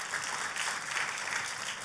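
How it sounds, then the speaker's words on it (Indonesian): Audience applause at an Indonesian church sermon, a short steady burst of clapping from a crowd, moderately loud and without talk. "Kita kasih tepuk tangan"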